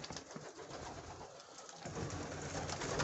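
Viennese flying pigeons cooing in a loft, a steady murmur of soft coos running through the whole stretch with no voices over it.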